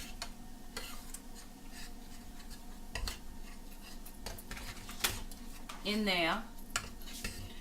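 A spoon scrapes and clinks against a crock pot set on keep warm while Land O'Lakes cinnamon sugar butter is stirred in, faint scattered taps and rubs, with a short spoken remark partway through.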